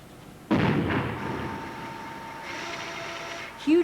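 An explosive charge detonates inside an underground salt mine chamber: a sudden heavy blast followed by a long rumbling, echoing decay that lingers for several seconds, with a short sharp noise at the very end.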